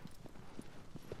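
A horse's hooves clip-clop in steady, evenly spaced steps in the Shadow of the Colossus remake video game, faint and at moderate distance, with no talk over them.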